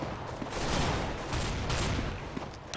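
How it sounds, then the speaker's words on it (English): Bursts of gunfire and explosive blasts in a tactical shooter video game, with a flashbang thrown amid the fight, forming a faint, busy, crackling barrage throughout. "Throwing flashbang!"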